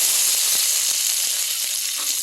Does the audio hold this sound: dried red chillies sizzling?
yes